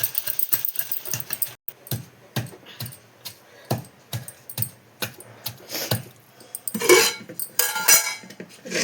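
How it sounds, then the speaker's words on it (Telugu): Garlic pounded in a mortar for gongura chutney, a run of loud irregular thuds and clacks of pestle on stone, with a denser burst of hard knocks toward the end, no voices. "ఎల్లిపాయలు వేసుకున్నాం. ఇవి మంచిగా నలిగేటట్టు దంచుకోవాలి."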